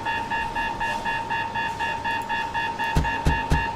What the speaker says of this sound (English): We're going to sound the alarm for Station 2.